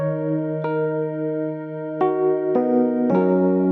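Square-wave synth chords layered with a lead in a bass house/lofi mix, sustained buzzy notes changing in steps every half second or so, clear and up front, no voices.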